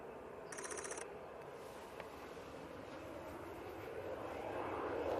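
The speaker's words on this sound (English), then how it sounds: "Swiss A320 Neo now spooling up" Swiss Airbus A320neo jet engines spooling up at an airport, a broad roaring wash that swells steadily louder at a distance, with a brief electronic beeping early on.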